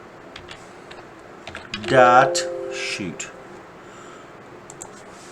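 Clicking keystrokes on a computer keyboard, a scatter of light, close taps spread through the clip, with someone briefly speaking in the middle.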